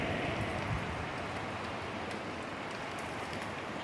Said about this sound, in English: But yeah, heavy rain,